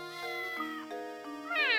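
Claudia the cat from Professor Layton and the Curious Village meows repeatedly, several clear, close tonal mews one after another with a rising, wavering cry at the end, alone without talk.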